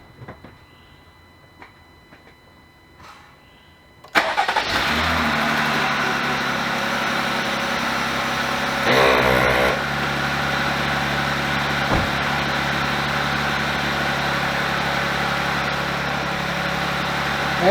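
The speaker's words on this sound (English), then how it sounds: "Fired up the engine, hit the auxiliary switch, you heard it light up" A Jeep Gladiator's engine is already running when an ARB air compressor kicks on abruptly and loudly, then keeps up a steady, close, continuous drone over the engine's low rumble.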